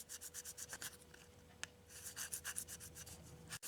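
A coin is sanded by hand with 600 grit sandpaper against a hard surface, giving close, steady back-and-forth rubbing strokes in a quick rhythm, with a sharp click near the middle and a brief thump near the end.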